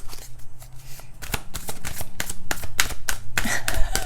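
A deck of tarot cards being shuffled up close, a steady run of crisp riffling flutters and soft slaps repeating through the whole stretch with no talking.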